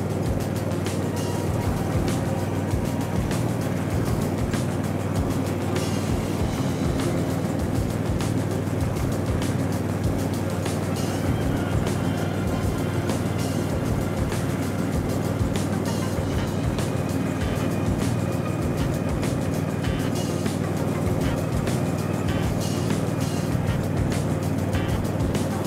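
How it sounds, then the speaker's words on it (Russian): Caiman Rapido Max Eco garden tractor mowing grass, its engine droning continuously and loudly at close range with a dense, steady roar and no talk over it. "Вроде все садовые трактора косят, но, блин, не так, как этот."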